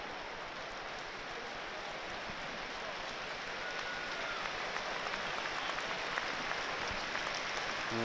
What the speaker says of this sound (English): And the applause goes up around the Stadium of Light for Sunderland fan Fletcher Jackson